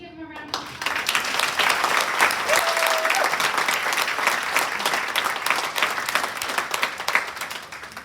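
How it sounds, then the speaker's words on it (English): Sustained applause from a roomful of residents at a senior living community's resident council meeting, honoring a volunteer award winner; steady, dense clapping begins abruptly and continues at full strength throughout. "Can we give him a round of applause?"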